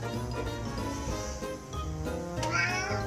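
A cat meows over a layer of background music, the cry rising briefly near the end, moderately loud and close.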